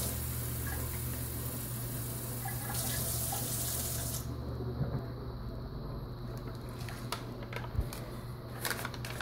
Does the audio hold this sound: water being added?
yes